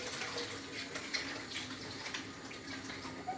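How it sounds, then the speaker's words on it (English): Tap water runs steadily into a kitchen sink during handwashing while cooking, a continuous faint hissing splash with no talking. "Wash hands."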